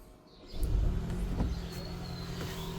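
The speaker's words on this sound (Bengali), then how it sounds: "স্টার্ট করে দেখি আমরা গাড়িটির ইঞ্জিন কন্ডিশন কেমন রয়েছে" A 2015 Toyota Harrier Advance Premium hybrid with a 2500cc engine starts up close by, with a short whirring rise followed by a low, steady running hum.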